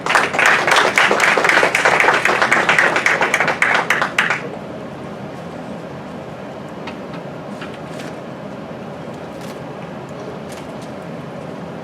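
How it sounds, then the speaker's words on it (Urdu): An audience applauds to welcome a president at a gathering, a dense loud clapping wash for about four seconds that abruptly drops to a quiet murmuring room with scattered faint ticks. "تالیوں سے استقبال فرمائیے، ہمارے صدر صاحب تشریف لے آئے ہیں"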